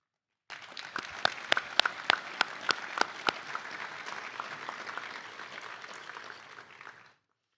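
Audience applause at a police academy graduation ceremony for the lead instructors, a few sharp close claps standing out early over a softer, steady wash of clapping that fades out.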